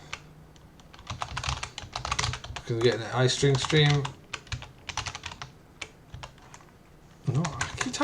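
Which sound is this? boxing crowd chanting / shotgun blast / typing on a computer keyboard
typing on a computer keyboard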